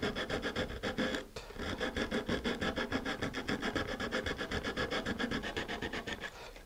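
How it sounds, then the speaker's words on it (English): Rough grit sandpaper rubbing down black plastic fin tabs on a Star Lift Mega Lander model, a steady fast rasping back-and-forth of many even strokes, close and loud with no talking. "I'm just sanding down the black part here."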